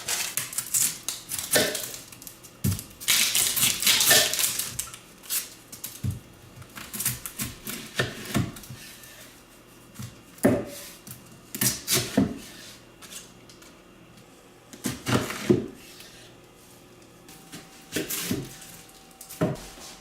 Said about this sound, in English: we're gonna start off by peeling some onions